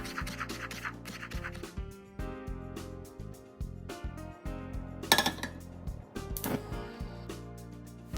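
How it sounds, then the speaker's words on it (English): Medium-sized onion sliced and garlic cloves minced with a knife on a board, producing quick repeated chopping taps and scraping, with a couple of brighter clinks of utensils, close and alone without talk. "I will slice a medium-sized onion and mince 2 cloves of garlic"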